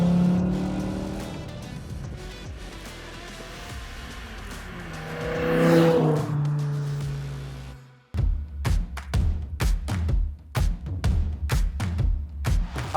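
A Jaguar V10 car engine builds to a high, rising scream that peaks and fades, then a sharp cut gives way to a series of loud, rapid revving bursts close by.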